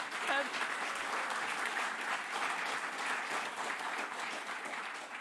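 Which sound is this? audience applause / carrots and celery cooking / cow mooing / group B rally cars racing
audience applause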